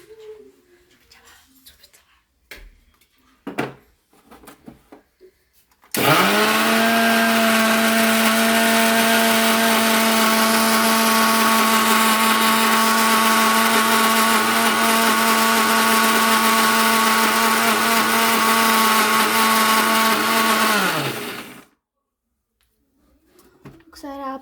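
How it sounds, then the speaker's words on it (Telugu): A mixer grinder blending onion masala whirs loudly and steadily for about fifteen seconds, starting abruptly and cutting off, with brief kitchen sounds before and after. "మనం ఒకసారి మిక్సీ వేసి తీసుకుందాము"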